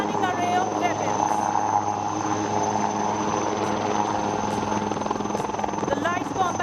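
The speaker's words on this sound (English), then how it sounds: "The light combat helicopter is now moving rearwards and will attain high speed" A light combat helicopter flies at an air show, its rotor thump and turbine whine steady and loud, with a public-address announcer talking over it.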